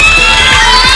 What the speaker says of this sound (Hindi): तो तालियां वालियां बजाएं, शोर मचाएं